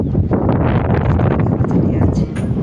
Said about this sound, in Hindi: हवा चल रही है आज।